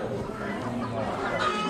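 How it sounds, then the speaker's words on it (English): Barred hens and laying chickens clucking in pens at an Amish animal auction, a steady murmur of clucks with people talking nearby. "some barred hens"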